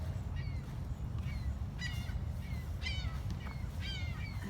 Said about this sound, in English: The birds sound beautiful.